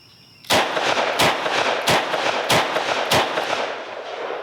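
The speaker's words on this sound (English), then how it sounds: "5 more rounds of 357 Magnum." A Taurus 605 revolver fires five .357 Magnum rounds, sharp loud reports spaced about two-thirds of a second apart, each followed by a brief ringing echo.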